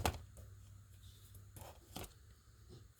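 Large scissors snipping through ribbon while making scrappy boho ribbon pieces, with a few sharp crisp cuts and faint rustling of fabric in between, close and fairly quiet.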